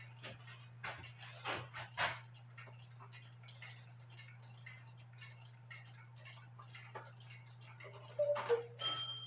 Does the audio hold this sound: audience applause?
no